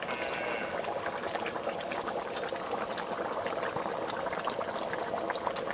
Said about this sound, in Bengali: ঝোলটা সুন্দর করে ফুটিয়ে নিয়েছি।